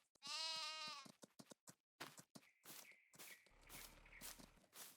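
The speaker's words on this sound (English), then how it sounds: "We have our goats." Sheep and goats bleat in Farming Simulator 22. One long, loud, strongly pitched bleat is followed by rapid clicking footsteps and further nasal, overlapping animal calls, with a low hum near the end.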